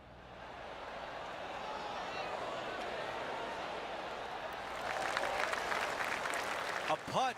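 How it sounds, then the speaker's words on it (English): Polite golf claps ripple from a gallery around the course in PGA TOUR 2K25, a soft wash of scattered applause that swells and thickens toward the end, with a voice speaking over it. "I can hear the golf claps around the course"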